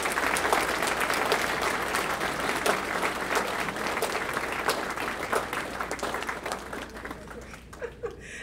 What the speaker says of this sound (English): we'll just give a little applause for each person